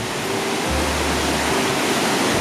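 A fast-flowing winter river rushes loud and steady nearby, a dense unbroken roar of churning water with no voices over it.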